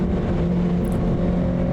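A 2019 KRT edition Kawasaki ZX6R with its muffler removed and only the muffler box left runs close by, giving a loud, steady, raspy engine drone for about two seconds.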